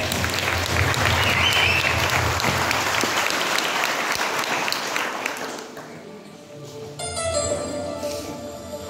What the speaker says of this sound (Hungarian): kérem, tapsolják meg!